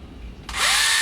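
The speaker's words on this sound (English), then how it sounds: "the slide will come back, pulling the shell out of the flywheel cage and ejecting it from the blaster" A foam dart blaster's flywheels spin up abruptly into a loud, high whirring whine after a brief quiet moment, as the blaster fires and ejects a shell.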